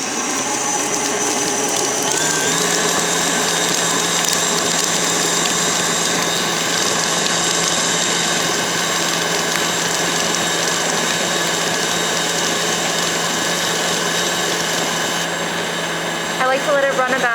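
An electric stand mixer whips butter at high speed for lemonade cupcakes, a steady loud whirring motor hum that runs continuously with a slight pitch rise near the start and drops off at the end.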